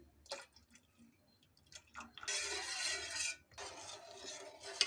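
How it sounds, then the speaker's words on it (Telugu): A spoon stirs custard powder into heated milk in a pot, giving a few sharp clinks against the metal followed by a sustained swishing, scraping stir that stops and then resumes, close and fairly quiet. "ముందుగా మనం కలిపెట్టుకున్న కస్టర్డ్ పౌడర్ని ఇందులో వేసి కలుపుకోవాలండి"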